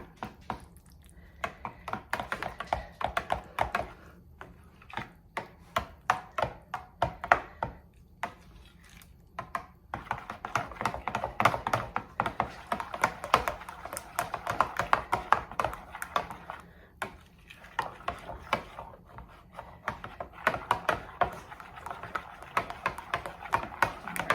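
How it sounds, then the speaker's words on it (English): Canned pumpkin stirred into vanilla pudding in a kitchen bowl, with a steady stream of close, quick utensil taps and scrapes against the dish, continuing in uneven rhythmic bursts throughout. "I'm gonna mix that into our vanilla pudding"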